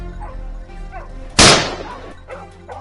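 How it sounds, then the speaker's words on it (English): A single loud, close gunshot cracks out midway through a wild boar hunt in a snowy field, with fainter yelping, barking-like calls before and after the shot. "Gunshots ring out almost simultaneously, taking down the one"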